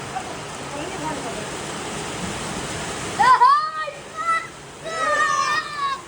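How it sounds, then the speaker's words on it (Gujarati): Rain falls in a steady hiss for a few seconds, then fades under excited voices and a child calling out. "ઓહો ભર ઉનાળે વરસાદ ચાલુ થઈ ગયો"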